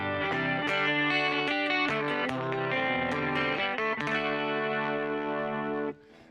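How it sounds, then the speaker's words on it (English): A cheap electric guitar played through effects like chorus and distortion, ringing chords and notes held steadily at full volume for several seconds before cutting off abruptly near the end. "Working a little bit on this new fancy cheap guitar."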